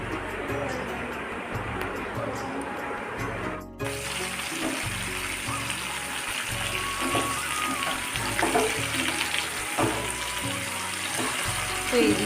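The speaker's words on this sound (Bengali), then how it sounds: "মাছটা নিয়ে আসলো, পমফ্রেট মাছ। তো ওটা ভেজে নিচ্ছে" Pomfret fish fries in a pan in a home kitchen, a steady close sizzle and crackle with a brief break near the start, while soft background clatter comes and goes.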